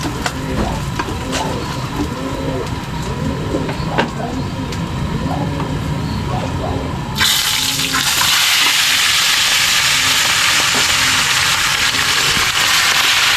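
Food fries over a strong fire, and after some muffled sounds and what may be low voices, a loud, steady sizzling hiss suddenly takes over and continues to the end.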